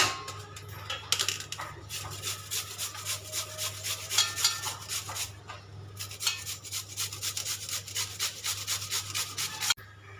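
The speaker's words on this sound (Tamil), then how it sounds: "இப்போ இதை நம்ம துருவி எடுத்துக்கலாம்." Peeled beetroot rubbed against a grater, giving a steady run of close, rhythmic rasping strokes with brief pauses and no talk.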